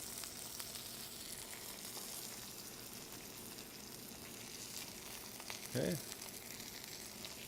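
Vegetables for a red snapper sweet and sour sauce sizzle steadily in a hot pan, a constant close frying hiss, with a person speaking briefly near the end.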